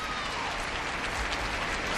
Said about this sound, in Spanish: Aplausos de los vallisoletanos que pueblan todos los balcones, los muchos balcones que dan a esta Plaza Mayor